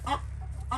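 Chickens cluck inside a dim winter coop where they roost on the floor, giving two short, soft clucks near the start and end of a brief moment over a steady low hum.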